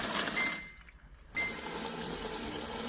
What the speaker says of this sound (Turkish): Şu an su alıyor.